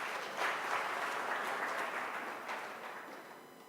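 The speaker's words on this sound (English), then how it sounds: "Please give yourself a hand of applause." Applause from a midwifery and obstetrics conference audience, moderately faint and steady, swelling early then slowly tapering off.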